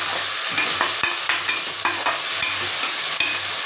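Onions and tomatoes sautéing in a pan for mushroom biryani, with a steady sizzle and a spoon stirring and scraping at irregular intervals, close and continuous with no voices.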